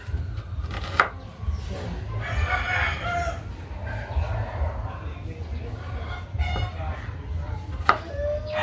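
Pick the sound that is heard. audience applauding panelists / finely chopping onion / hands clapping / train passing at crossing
finely chopping onion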